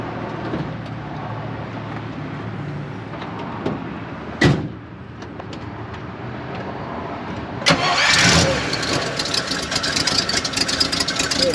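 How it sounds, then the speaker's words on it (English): A 1956 Buick Special Riviera's original 322 V8 cranks briefly and fires up, then settles into a steady rumbling idle close by. "V8 fires right up."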